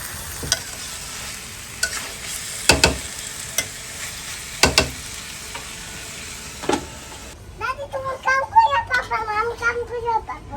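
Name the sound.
chicken curry masala being stirred and fried in a pan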